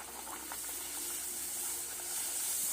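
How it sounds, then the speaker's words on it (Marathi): Spinach puri frying in hot oil gives a steady, close hiss and sizzle that stays even throughout, with faint crackles and no talking. "आता आपल्याला सर्व पुऱ्या तळून घ्यायच्या आहेत"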